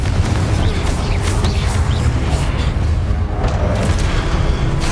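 Booming spell blasts from a Confringo fire curse in Hogwarts Legacy on PS5, dense and loud, rolling continuously with game effects and no talk.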